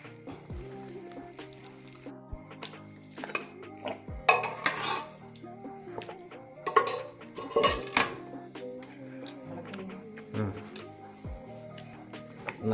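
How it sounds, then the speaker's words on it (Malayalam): Food stirred in a metal pot during home cooking for a family get-together: irregular clanks, scrapes and spoon knocks against the pot, with bursts of louder stirring and voices talking throughout. "എല്ലാം ഇളക്കി പിടിപ്പിക്കണം കേട്ടോ"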